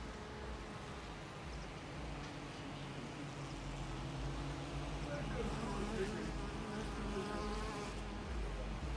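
Honey bees flying in to a hive at an Abkhazian apiary, a continuous dense buzzing swarm drone that fills the scene, steady and close.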